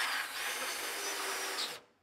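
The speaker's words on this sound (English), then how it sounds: "I'm just going to get my drill" A power drill drives a worktop screw up from below into a kitchen cabinet, with a steady, close whirring drone that runs for almost two seconds and then cuts off abruptly.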